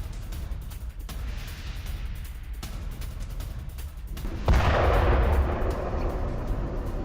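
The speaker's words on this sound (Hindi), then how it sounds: "मिसाइल अटैक के बाद क्रिवरी में कैसे हुआ धमाका, देखिए" Distant booming blasts from a missile attack in Ukraine echo over a continuous rumbling background, with a heavier, louder explosion swelling midway and lingering roar afterward.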